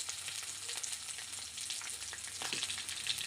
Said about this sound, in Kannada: ಕರಿಮೆಣಸು ಇವೆಲ್ಲ ಹಾಕಿ ಫ್ರೈ ಮಾಡ್ಕೊಳ್ಳೋಣ. ಮತ್ತು ಶುಂಠಿ ಬೆಳ್ಳುಳ್ಳಿ, ಅದ್ರ ಜೊತೆಗೆ ಈರುಳ್ಳಿ ಕೂಡ ಹಾಕ್ಕೊತೀನಿ.